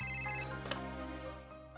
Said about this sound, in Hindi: ये पक्का त्रिपुरा का ही फोन होगा।